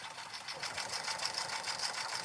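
A sewing machine does heavy stitching through appliqué fabric, a fast, steady mechanical whirr with a rhythmic ticking pulse, close and fairly quiet, with no voices.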